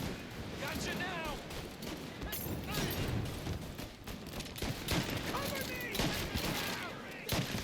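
Scattered gunshots in Mafia: Definitive Edition during a countryside shootout, set under a busy mix of game sounds, with a voice talking over the shots throughout.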